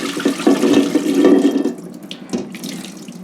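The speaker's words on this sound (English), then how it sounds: "When I get near the end, I will pour it out through the strainer." Cooked chickpeas and their thick liquid poured through a strainer in a kitchen, a steady close splashing gush of liquid that tapers into lighter trickles and drips.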